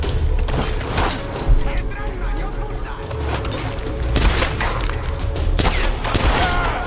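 Rapid bursts of gunfire in the video game Tomb Raider crack repeatedly over a dense, noisy backdrop, with voices talking in Polish throughout.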